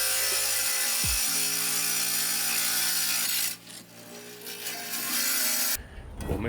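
A budget tile saw cuts through tile with a steady, loud grinding whine. It drops off briefly midway, then resumes at full strength and cuts off near the end.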